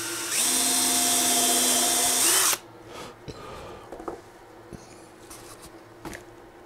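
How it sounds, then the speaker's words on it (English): A power drill whines loudly and continuously for a couple of seconds boring an 1/8 inch hole in wood, then stops, leaving faint taps and knocks in a quiet room. "right over the top of where your dowel passes through, drill an 1/8 inch hole"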